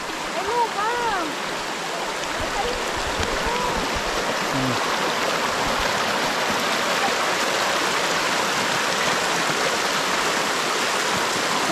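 A river in the Philippines flows steadily, a broad continuous rush of water heard close and constant throughout, with a few brief bird chirps early on.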